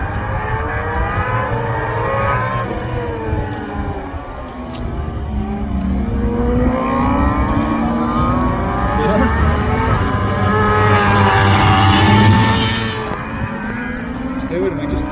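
Superbike race in wet conditions playing on a TV, with rising and falling whines of racing bikes, a louder high-revving pass toward the end, and commentary-like voices over it.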